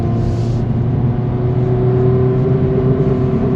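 A Boost Blue 2023 Honda Civic FL5 Type R pulls away on a short drive, its engine a steady, loud, close hum and whir heard from inside with no talking.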